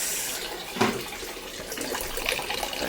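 Water runs steadily from a tap in a continuous hissing rush, with a brief splashy surge partway through and no voices.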